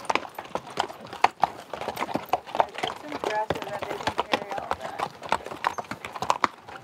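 Mule hooves clip-clop steadily on the dirt and rock of the Bright Angel Trail in the Grand Canyon, a close, uneven run of sharp knocks with people talking nearby.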